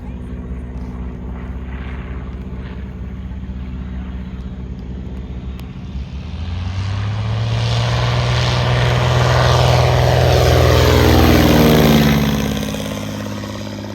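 A Stinson L-5 Sentinel propeller plane at a flying demonstration approaches and roars past, its engine drone swelling and sweeping down in pitch before fading, over steady background noise.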